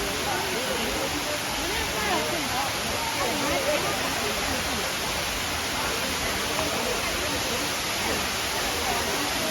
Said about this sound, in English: So here is the waterfall.